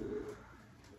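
A homing pigeon gives a brief, soft, low coo close by in quiet surroundings, with no voices.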